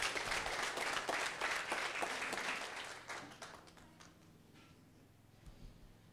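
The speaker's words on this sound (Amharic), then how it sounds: "አጨብጭቡ ለጌታ ክብር።" A church congregation claps in praise, a dense, lively burst of many hands that gradually thins and fades into a few scattered claps.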